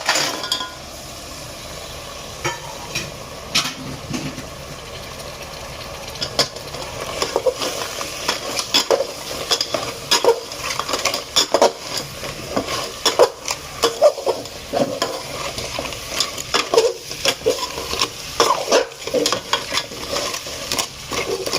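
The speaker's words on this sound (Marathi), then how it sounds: "आता आपण हे खेकडे टाकून घेऊया" Crabs sizzling and frying in a pan for a Maharashtrian crab curry, with steady close crackle, bursts of stirring and occasional clinks of a utensil against the pan.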